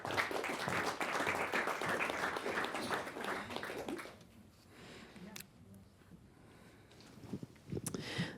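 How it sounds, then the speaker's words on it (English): Loud, dense audience applause for about four seconds, then fading to a quiet room with scattered claps and a few faint sounds. "Please clap your hands for Inanna Lallerstedt from Sweden."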